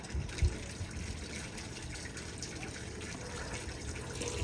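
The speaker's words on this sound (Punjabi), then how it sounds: "ਪਾਣੀ ਫੇਰ ਭਰ ਗਿਆ ਇੱਕ ਬਾਲਟੀ ਲੱਗ ਗਈ" Water pours steadily into a bucket while fruit trees are watered in summer heat. The gushing trickle stays quiet and continuous, with one soft knock near the start.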